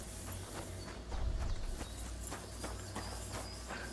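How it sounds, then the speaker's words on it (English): Horse hooves clip-clop in a steady rhythm in the video game Kingdom Come Deliverance 2, moderately close, with a soft thud partway through and no talking. "That was my horse."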